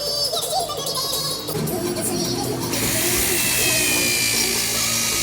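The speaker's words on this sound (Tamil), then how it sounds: "இப்போ ட்ரில்லிங் மிஷினில் ஹோல்ஸ் போடுறாரு." A power drill whines and grinds loudly while boring holes in iron for a gardening spade, rising to a harsh high-pitched boring sound in the latter half, with background noise.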